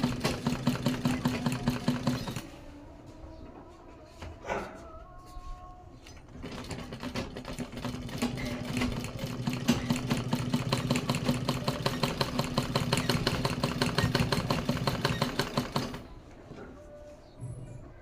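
A sewing machine stitches a sleeve design in rapid, rhythmic mechanical bursts, running in a short stretch, pausing briefly, then running long and close before stopping.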